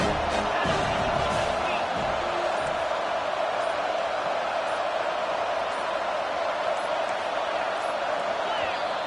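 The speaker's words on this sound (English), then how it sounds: "listen to this crowd noise. This stadium is vibrating." A large college football stadium crowd in the video game NCAA 25 roars and cheers in a dense, continuous wash of noise, with scattered whoops rising above the steady din.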